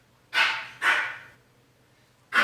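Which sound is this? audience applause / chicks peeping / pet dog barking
pet dog barking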